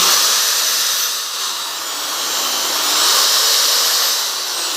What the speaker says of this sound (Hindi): ये हमारे पास एक ड्रिल मशीन है। ये एसी करंट से चल रही है।